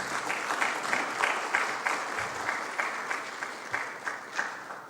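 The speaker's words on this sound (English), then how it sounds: "Shall we please give them a little clap on their hand?" Seminar audience at a university completion event gives steady applause, a continuous close wash of many hands clapping at even strength throughout.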